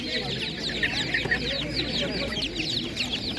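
A flock of chickens, including broilers for sale at an animal market in Ivano-Frankivsk region, Ukraine, clucking continuously with busy overlapping calls, fairly close, over a low background murmur.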